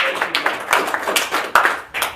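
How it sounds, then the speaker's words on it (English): Middle school students clap for themselves at a school check presentation, a short burst of close, loud hand claps with uneven rhythm and a few sharp accents. "Again, give yourselves a round of applause."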